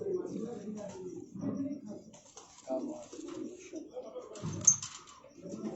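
Racing pigeons at a loft in Rawalpindi coo softly in short, repeated low bursts, heard close and faint beneath men chatting.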